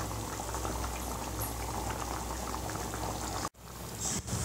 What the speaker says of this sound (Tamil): இப்போ கொஞ்சம் வேக வைக்கலாம்